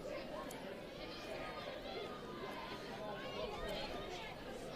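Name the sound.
crowd chatter at a women's football grand final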